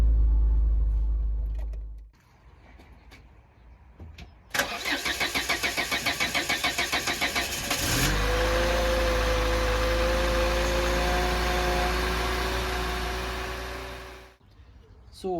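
A Renault 11 petrol engine cranks with the choke out, stutters, then catches and revs before settling into a steady, loud idle that fades off near the end, with a brief voice early on.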